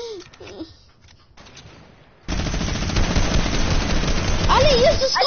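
A SCAR rifle and a shotgun fire in a video game as a dense, loud, continuous burst of shots. It starts abruptly partway through after a quieter stretch, and voices are heard over the gunfire.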